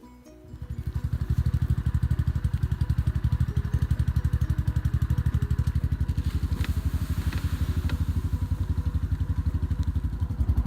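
A DR wood chipper attachment on a field and brush mower chipping maple and fir branches starts up and settles into a loud, rapid, steady engine chug with rattling clatter over it, close by, with no talking.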